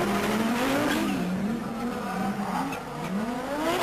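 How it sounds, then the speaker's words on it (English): Audi Quattro short-wheelbase rally car at a vintage rallycross stage, its engine and turbocharger whistle rising and falling steadily as the car slides sideways on opposite lock, loud and continuous. "Just hear that whistle there, that's from the turbocharger"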